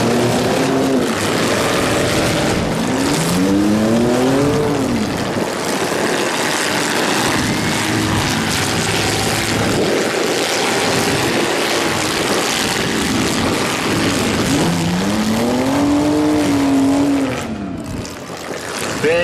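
Demolition derby cars at a Fall Brawl couples class event rev loudly and grind against each other, with engines rising and falling in pitch under a constant roar of crowd and track noise.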